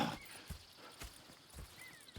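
Horses in the Red Dead Redemption 2 video game clop along at a steady walking pace, about five hoof strikes spaced evenly, soft and fairly close, with a faint whinny-like tone.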